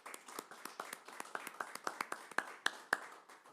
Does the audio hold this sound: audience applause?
yes